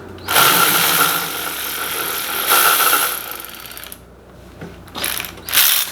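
A ratchet works loose the last bolt on a built engine in a garage. Loud, close bursts of rapid clicking run in several strokes with brief breaks between them.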